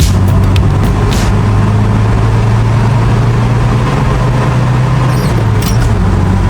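A 2007 Toyota Siyaya HiAce van with almost a million kilometres drives along, its engine a steady low hum with road rumble inside the cabin, loud and continuous with no talk.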